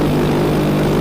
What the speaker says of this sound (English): we're just letting the engine warm up a little bit